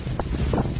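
Strong gusting winds from Category 5 Hurricane Milton lashing coastal Cancun, Mexico, a loud roaring rush buffeting the microphone with low rumble throughout, brief and without talk.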